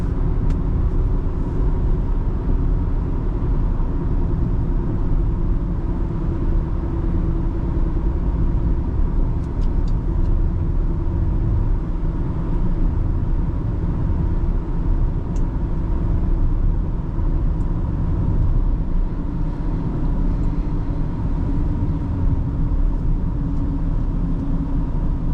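Steady interior drone of a 2009 Toyota Camry XLE V6 driving on the road, a constant low engine and road rumble with tire noise, loud and unbroken throughout.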